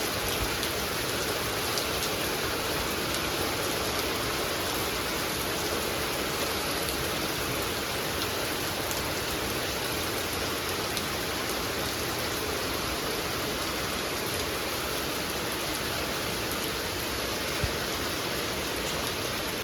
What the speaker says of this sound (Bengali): বাইরে মুষলধারে বৃষ্টি শুরু হয়েছে